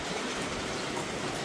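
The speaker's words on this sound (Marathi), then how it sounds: "छान असा हलका हलका हलका पाऊस येतो" Light rain falling outdoors, a soft, even hiss of drops that continues without a break, faint and steady with no voices.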